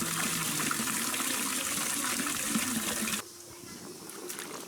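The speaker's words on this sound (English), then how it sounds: "They wash the vegetables in a concrete basin holding about 500 gallons of water." Water sloshing and trickling in a large concrete basin holding about 500 gallons as mustard greens are washed, a steady splashing wash that drops suddenly to a quieter trickle partway through.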